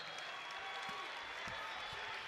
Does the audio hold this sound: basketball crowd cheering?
yes